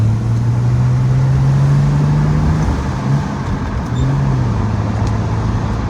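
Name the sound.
car exhaust while driving uphill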